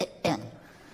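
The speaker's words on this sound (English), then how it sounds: "Just gotta clear my throat." A man clears his throat during a stand-up comedy set, two short rough bursts close to the mic, the second louder, followed by quiet room tone.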